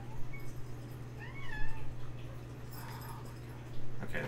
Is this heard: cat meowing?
yes